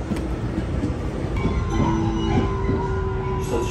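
An Amsterdam metro train running through a station, a steady loud rumble of wheels on rails with a few high squealing tones rising partway through, close and continuous.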